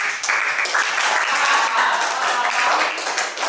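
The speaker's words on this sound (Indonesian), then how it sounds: "tepuk tangan dengan jawaban" Classroom applause from students rewarding a classmate's answer during an Indonesian-language lesson, a steady patter of hand claps lasting a few seconds at moderate loudness without a break.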